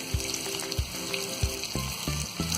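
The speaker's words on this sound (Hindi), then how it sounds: "इसी तरह हम पलट कर फ्राई कर लेंगे।" Potato pieces frying in oil in a pan for chilli potatoes as they are turned over, a steady sizzle close by with several distinct low knocks of the utensil, and no talking.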